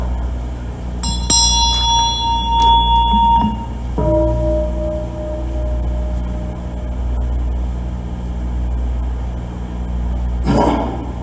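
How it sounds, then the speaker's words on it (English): A meditation bell is struck and rings out with a clear sustained tone that slowly decays, then is struck again and fades, with a final soft strike near the end in an otherwise quiet room. "We start meditation with the bell."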